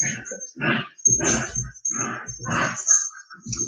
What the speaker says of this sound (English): Dogs are going absolutely bonkers in there.